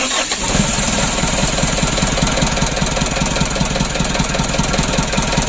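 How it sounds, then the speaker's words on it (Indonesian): A rebuilt 136 HDL diesel engine, restored after overheating, cranks on its starter and catches, settling into a loud, steady, knocking run with a rapid regular pulse throughout. "Setelah aman, kita coba dulu, kita starter."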